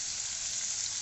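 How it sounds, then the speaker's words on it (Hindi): Onions fry toward golden brown in a pan for chonge ki sabzi, a Caralluma fimbriata vegetable dish, giving a brief, even, close sizzling hiss with no other sound. "यहाँ पे इसको हम अच्छे से फ्राई करेंगे। गोल्डन ब्राउन करेंगे हम प्याजों को"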